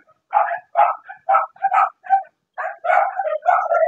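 Dogs at a home bark in a burst of short, loud, close yaps, a dozen or so quick barks with brief pauses between them and no other sound around.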